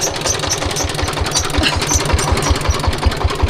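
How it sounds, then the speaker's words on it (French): An engine-driven grain husking machine in a village in Indonesia's Harau valley runs with a loud, steady, rapid thumping chug, close and continuous without a break. "c'est la machine pour enlever la peau des graineries"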